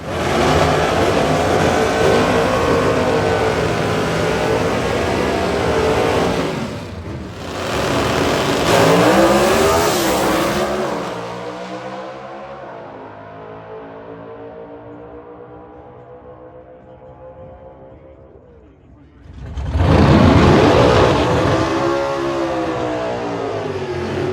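426 Hemi drag race cars roar down the strip at Maple Grove Raceway during a Hemi Shootout semifinal, with loud revving passes, a fading engine drone, then another sudden blast of engine noise.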